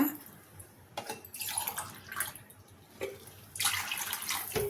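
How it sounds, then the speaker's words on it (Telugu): Water poured from a glass into rice in a cooking pot, heard as a few separate splashing pours with short pauses between them, close by in a quiet kitchen. "నేను రెండు గ్లాసులు నీళ్ళు వేస్తున్నా"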